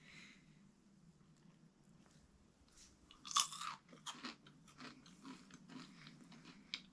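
Freeze-dried caramel corn from a home freeze dryer's candy mode is bitten and chewed close up, with sharp crisp crunches and then a run of smaller crunching chews. No one speaks.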